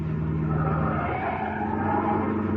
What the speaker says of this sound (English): Maria, slam on the brakes